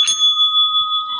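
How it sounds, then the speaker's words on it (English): A single bell is struck once and leaves a clear, steady ringing tone that sustains evenly for over a second, loud and close with no voices. "ringing the bell for a true smile"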